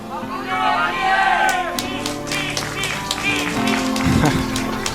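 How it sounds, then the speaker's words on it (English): A crowd of fans cheers and claps at a 2010 GSL StarCraft II esports match in Korea, a broad roar of noise under a caster's ongoing commentary. "A lot of fans here cheering him on."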